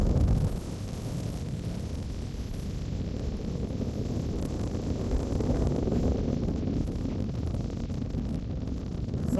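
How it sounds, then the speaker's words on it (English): Heavy wind buffets the microphone on an exposed mountain top in the Guadalupe Mountains of West Texas, a constant low roar that fills the whole stretch, with no voices over it. "Sorry for the wind, that's just the way it is."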